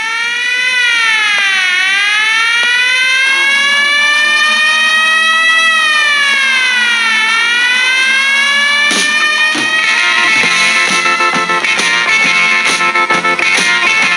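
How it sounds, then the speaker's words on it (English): Siren sound effect wailing continuously and loudly for the whole stretch, its pitch sweeping up and down in long slow cycles, with rhythmic music breaking in over it toward the end. "It's time to get the siren out."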